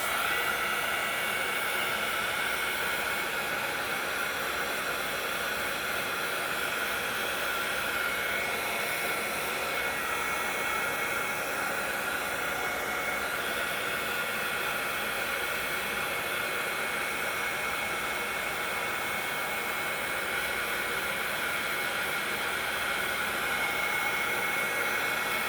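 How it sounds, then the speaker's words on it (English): A heat tool blows steadily and loudly for the whole stretch, drying paper for handmade card making, with a constant airy roar and no talk. "I am going to blow dry this, get it a little dry. With a heating tool."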